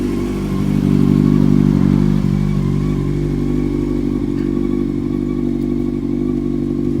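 Yamaha R6 sport motorcycle engine running close by with a steady mid-pitched drone, swelling briefly louder before settling into an even hum without talk.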